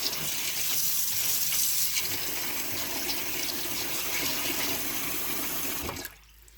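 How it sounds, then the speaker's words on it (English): Room-temperature tap water gushes steadily into a bowl of Koki beans for soaking, a loud continuous splashing pour that stops abruptly near the end, with no talking. "you just want to put room temperature water and soak the beans for 5 minutes"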